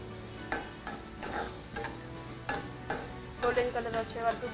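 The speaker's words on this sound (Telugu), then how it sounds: "గోల్డెన్ కలర్ వచ్చే వరకు కూడా ఈ ఆనియన్స్ ని వేయించాలి." Chopped onions sizzling in a hot pan for breakfast while a spoon stirs and scrapes them in repeated strokes; quiet, close frying with no talk.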